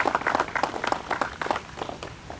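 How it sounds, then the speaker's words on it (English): At a Patriot Day prayer ceremony the audience gives a round of applause, a steady, fairly close patter of many hands clapping with a rhythmic, uneven texture and no speech over it. "let's give a big round of applause"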